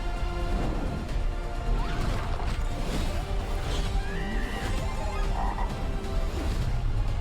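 Luigi as a frog in the Super Mario Galaxy film lets out a busy mix of croaking calls layered over music and film sound effects, steady and fairly loud throughout.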